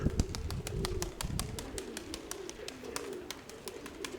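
Pigeons coo in a dovecote, their low rolling calls steady underneath, mixed with a quick series of sharp clicks or taps.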